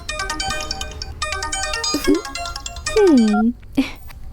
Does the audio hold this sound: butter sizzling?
no